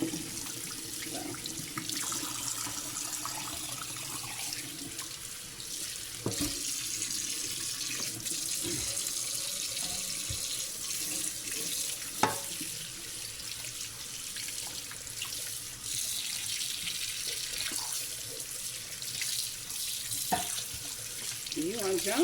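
Kitchen tap water runs steadily over a raw turkey being rinsed before going into a brining pot, a continuous splashing hiss with a few louder spatters, close and alone without talk.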